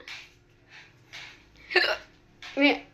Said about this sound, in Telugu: ఎక్కిళ్ళు వస్తాను.